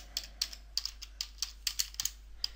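Fingers tap a computer keyboard in an irregular run of light, close clicks while entering an HTML navigation bar for a WordPress post, quiet against a faint steady hum.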